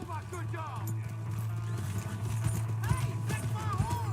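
Horse hooves clip-clop at a steady walking rhythm in the Red Dead Redemption 2 video game, with a horse whinnying and people talking over the hoofbeats.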